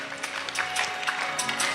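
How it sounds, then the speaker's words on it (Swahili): An audience applauds for Madam Margaret at a morning gathering. A short burst of scattered clapping is heard, moderately loud with many hands. "Now a hand of applause tafadhali"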